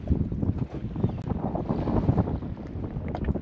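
Strong wind buffets the microphone while a sailboat heads out of St. George's Bay, Newfoundland, a constant loud rumbling roar with gusty surges and faint water and rigging noise beneath it.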